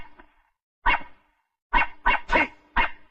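A dog barks at close range: a single bark, then a quick run of four loud, sharp barks standing alone, with no talking.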